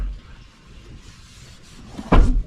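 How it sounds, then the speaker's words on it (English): A car door with rubber door seals swings open: a single sharp thump and click near the end after a quiet stretch of low rumble. "So when you open this door"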